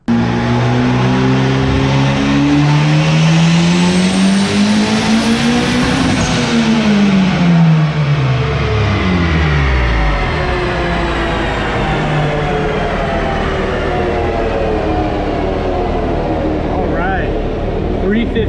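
A turbocharged Honda-swapped Ford Ranger making 315 wheel horsepower roars loudly on a dyno, its engine note climbing and then falling as it revs through the run and winds down.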